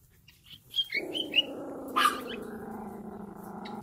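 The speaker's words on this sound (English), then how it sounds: "He's like Crypto, never stops growling." A small dog growls in a low, continuous rumble that starts after a few faint chirps and keeps going steadily at close range, with a brief sharp yip partway through.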